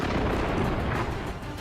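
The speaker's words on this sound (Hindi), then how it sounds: "जिसके बाद एक जोर का धमाका हुआ और वहां धुएं का गुबार छा गया।" A heavy explosion from a shoulder-fired rocket launcher strike on an ISIS position near Raqqa, Syria, rolls out as a dense, continuous rumbling roar that stays loud throughout.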